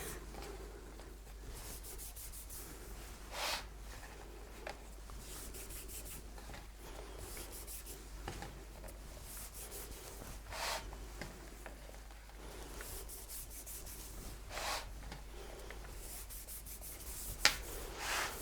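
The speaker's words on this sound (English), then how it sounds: "I'm just turning the cake and rubbing my fingers along that bottom there" Fingers rub sugarpaste along the bottom edge of a covered cake as it is turned, producing soft, faint, repeated rubbing strokes against quiet background hiss.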